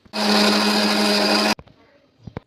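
A kitchen mixer grinder blends masala of coconut, garlic, tamarind and spice powder for garlic kulambu, roaring loud and steady for about a second and a half, then cutting off, followed by a few soft clicks and knocks.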